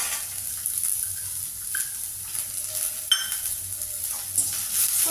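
Small onions sautéing in a pan with a little salt for ragi keerai adai, a steady soft sizzle with a few scrapes of a stirring spoon against the pan.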